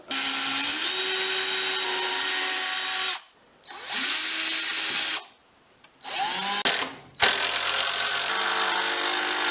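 A power drill drives big four-inch wood deck screws during a countertop install, whining loudly in three long bursts with short pauses between them, its pitch shifting as each screw seats, close and without speech.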